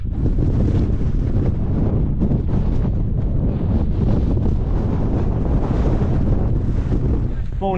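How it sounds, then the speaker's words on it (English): Loud, continuous wind on the hills near Whernside in the Yorkshire Dales roaring and battering against the microphone, a thick blustery rush with no pauses. "It's very windy."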